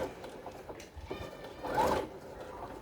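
A sewing machine running a seam on a French-seam cushion cover, a quiet rapid mechanical whirr and tapping close by, swelling briefly louder mid-clip.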